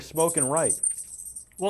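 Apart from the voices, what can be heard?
dog collar tags jingling as Yorkie poo runs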